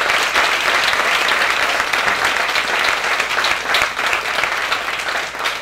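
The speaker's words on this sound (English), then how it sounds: "give one more round of applause to our wonderful panelists" A panel-discussion audience gives sustained applause, a dense, steady wash of many hands clapping at constant loudness with no talk over it.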